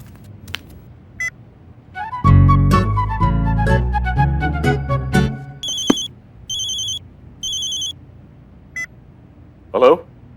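A phone's ringback tone purrs in repeated short bursts with gaps between them, after some muffled movement and clatter; no one talks over it.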